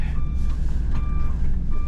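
A truck backing up to a trailer sounds its reversing alarm in a few evenly spaced high beeps over a steady low engine rumble.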